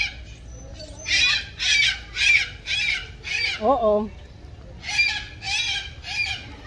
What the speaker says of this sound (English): I hear birds, but I don't see them.